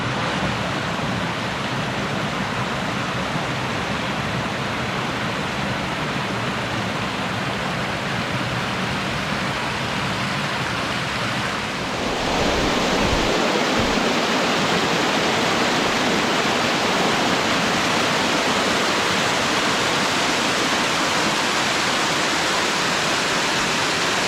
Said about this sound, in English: Beautiful spot, a waterfall.